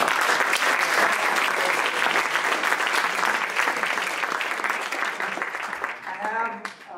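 Startup investor event audience claps loudly for a speaker, a full sustained round that thins in the last second as a voice begins talking.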